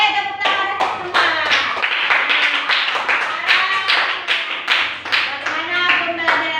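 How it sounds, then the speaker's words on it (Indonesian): A classroom of children claps together in quick, slightly uneven rhythm, loud and close, while young voices call out and chatter over the clapping throughout. "tepuk tangan untuk semua"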